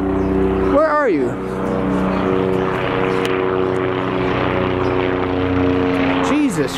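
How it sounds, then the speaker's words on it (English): Helicopter flying overhead, a steady loud droning rotor and engine throb that persists throughout, with a person shouting over it at the start and end. "Come on, you fucking helicopter, seriously?"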